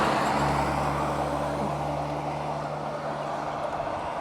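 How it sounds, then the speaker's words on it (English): Trucks passing on a rural road in a Chinese village, a steady low engine drone with tonal hum fading slowly as the vehicle moves away, continuous and moderately close with no voices. "Despite all the trucks currently driving by, this still feels incredibly tranquil and peaceful."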